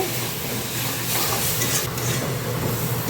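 A tomato ketchup mixture stirred in a frying pan, a dense continuous sizzle with a soft hiss and faint scraping of the spoon, steady and close with no voices.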